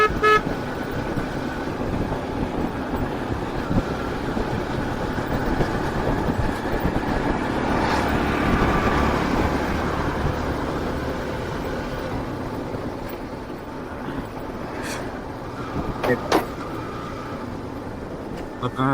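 Evening traffic rumbles on a busy dusty road in Bangladesh, a steady broad roar with passing vehicles and occasional horn toots rising near the end, heard from a moving motorbike.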